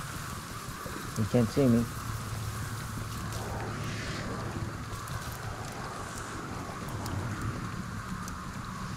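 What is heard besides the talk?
rain in video game GhostWire: Tokyo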